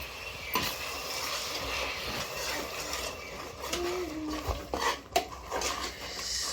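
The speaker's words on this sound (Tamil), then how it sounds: "கிளறி விடலாம்" Mushroom biryani being stirred in a pot after curd is added, with soft scraping and clinking of a spoon against the pot in scattered bursts, fairly faint and close.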